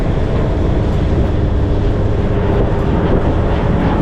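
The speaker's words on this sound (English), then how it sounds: "The plane." A plane flies over the Ketchikan, Alaska waterfront, a steady, loud broadband roar that holds constant throughout with no voices.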